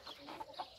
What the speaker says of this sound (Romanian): Găina cu cocoșul.